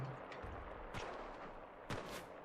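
Gunfire from an American gun in the World War II shooter game Enlisted, a few sharp shots spaced out over a steady background of battle noise.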